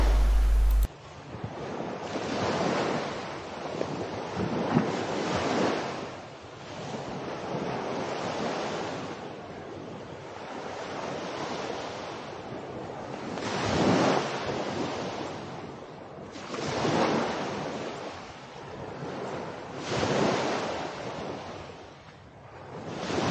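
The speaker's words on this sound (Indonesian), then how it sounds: "Jadi inilah pantai pasir yang berwarna putih, luas dan cantik." Waves wash onto a wide white sand beach at low tide, surging and receding in slow, repeating swells, with wind buffeting the microphone throughout and no one speaking.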